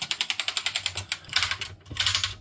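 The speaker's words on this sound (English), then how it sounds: "keyboard is the one I wanted to just to make sure that we have all our keys are working." Keys on an Amiga 500 keyboard being typed in a steady run of clicky strokes to test that they all work, with brief pauses between bursts, close and fairly loud.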